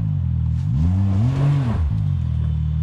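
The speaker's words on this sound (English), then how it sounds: "Brandon's up next with that suburban limo thing we call a Can-am." A Can-Am UTV engine revs up and back down in one close, loud swell, the pitch climbing then falling, with a steady mechanical drone on either side and no talking.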